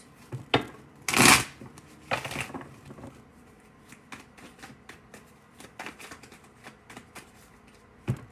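A deck of tarot cards spills and slaps down onto a surface, giving a loud papery burst early on, then scattered soft card taps and rustles as they settle, close and without talk.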